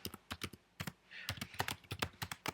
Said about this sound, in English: basically just create for yourself a text block and type in phases